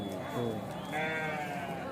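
A sheep bleats in a drawn-out, wavering call close by at a sheep and goat market in Kadiri, with people talking over and around it.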